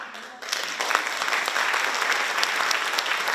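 An audience at a church event breaks into dense, sustained applause, many hands clapping loudly and steadily after a quieter opening moment.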